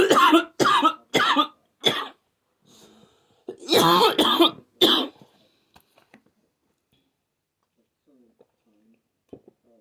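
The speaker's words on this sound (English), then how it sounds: "I was coughing and trying to catch my breath again" A run of harsh, bursting coughs, several in quick succession, then a louder cluster, trailing off into quiet breathing and faint rustles.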